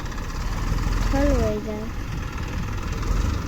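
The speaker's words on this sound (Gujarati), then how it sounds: "ટ્રેક્ટર આપણે ભરતીની ધૂળ ભરીને આવ્યું છે" A loaded tractor carrying fill soil idles with a low, steady rumble, running under a man's close, clear talking throughout.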